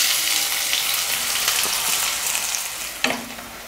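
Onions fry in oil with cumin in a pan for an egg curry gravy, giving a steady broadband sizzle with a few stirring clatters and one sharp scrape near the end, no voices.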